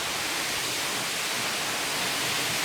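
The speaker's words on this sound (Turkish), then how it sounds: "Su buradan akıyor. Ve o büyük oyuktan kaybolup gidiyor." A stream flows and drains away into a large sinkhole, producing a loud, steady broadband rush of water with no pauses and no voices.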